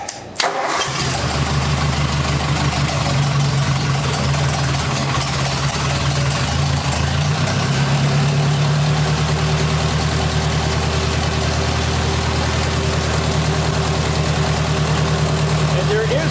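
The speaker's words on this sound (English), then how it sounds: "So I'll start it up and show you that it sounds good now." A 1964 Ford 4000 tractor engine, just back together after a head gasket repair, cranks and catches almost immediately, then settles into a loud, steady, close-up idle with an even rumbling pulse that runs unbroken to the end.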